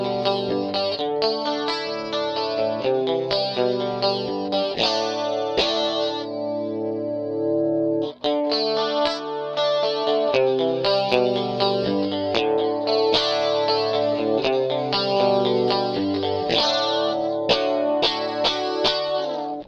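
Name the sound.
electric guitar through MXR Rockman X100 pedal, Clean 1 mode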